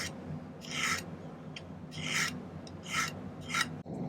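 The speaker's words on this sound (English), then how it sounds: "And we can do the same thing we did before, is kind of file off the." A hand file rasps across silver wire on an Art Deco necklace in four or five slow, scratchy strokes, close and fairly quiet, over a steady low background hum.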